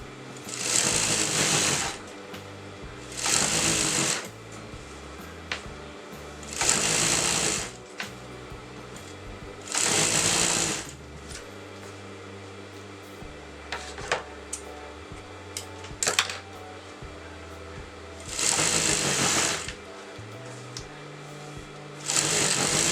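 Sewing machine stitching folded salwar fabric runs in about six loud bursts of a few seconds each, pausing between runs, with quiet fabric handling and faint rustle in the gaps.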